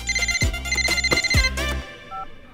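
A mobile phone plays a loud, close electronic ringtone melody of bright repeating notes that stops abruptly, followed by a faint short beep.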